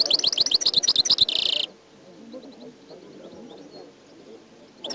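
A songbird bred for silvestrismo song contests sings close and loud in rapid repeated chirps, then stops, leaving faint background noise.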